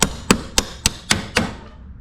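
Six sharp metallic strikes of a hammer on a punch against garage door hardware during a cable replacement and spring adjustment, evenly spaced about a quarter second apart, close and loud with no talking.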